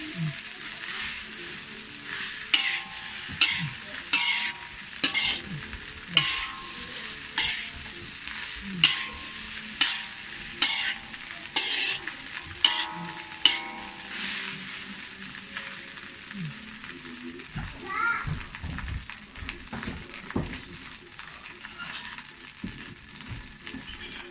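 Nasi goreng ikan bilis being stir-fried in a pan, kampung style: a steady sizzle under repeated rhythmic scraping and clanking of the spatula, with no talking.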